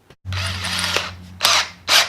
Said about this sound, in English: So you just got to kind of take the 1/2 inch drill bit through and kind of clean up all the powder coating around the edges